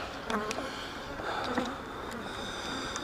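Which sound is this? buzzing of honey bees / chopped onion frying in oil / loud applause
buzzing of honey bees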